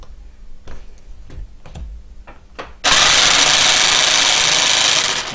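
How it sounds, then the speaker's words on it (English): A jigsaw on pendulum setting one, starting with a few light clicks and taps as it is handled, then bursting into a loud, steady buzzing whine that holds close up to the end. "you'll see that the blade has moved, and by pressing the jigsaw again,"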